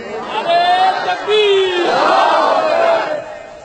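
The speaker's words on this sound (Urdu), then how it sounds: "نعرے" A crowd at a religious gathering shouts slogans together, a loud burst of many voices rising and falling in unison for a few seconds.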